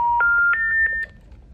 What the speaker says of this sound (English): our phone didn't work, and then it would not stop beeping like this.